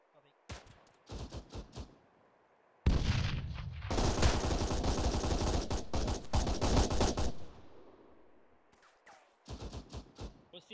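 Arma 3 rifle and machine-gun fire bursts out in sharp separate shots, then a sustained loud automatic volley with dense rapid cracks, easing into scattered shots near the end; a voice talks briefly over the shooting.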